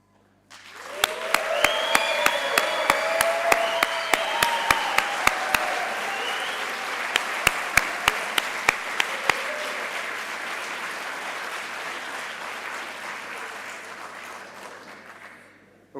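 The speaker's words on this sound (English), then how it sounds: "please rise so we can applaud you." Sustained applause from a graduation ceremony audience, a dense, loud clapping that starts suddenly, holds steady for many seconds with a few sharp individual claps, then slowly fades.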